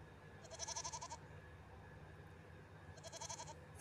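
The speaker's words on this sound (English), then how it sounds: "A little baby goat." A baby goat in a video game gives two short, wavering bleats a few seconds apart, fairly faint over a soft game background.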